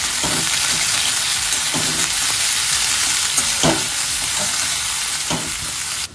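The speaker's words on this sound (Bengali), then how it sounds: "দেখো পেঁয়াজ ফ্রাই হয়ে হালকা ব্রাউন কালারও চলে এসেছে" Onions frying in a pan until light brown, a steady close sizzle with several soft scraping stirs at irregular intervals and no talk.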